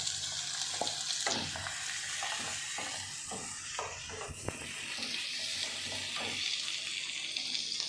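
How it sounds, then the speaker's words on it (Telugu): Tomato pieces go into frying onions for kaju chicken fry, setting off a steady, bright sizzle of hot oil, with a few sharp clicks of a spoon against the pan as the mixture is stirred. "కొంచెం ఆనియన్స్ వేగాక దీంట్లో మనం టమాటా ముక్క కట్ చేసుకున్నాం కదా, ఇవి యాడ్ చేద్దాం"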